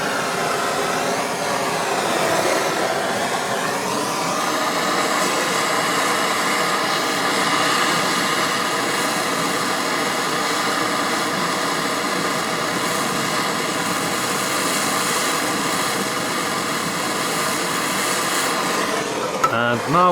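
Sievert gas torch roaring steadily as its 1900 °C flame heats a bolt area, a loud continuous hissing rush that holds nearly unchanged for about twenty seconds.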